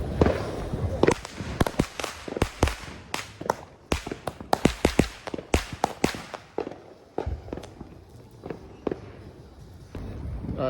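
Small Fourth of July fireworks crack and pop in rapid, irregular bursts, loud and close, thinning to scattered bangs toward the end, with faint voices in the background.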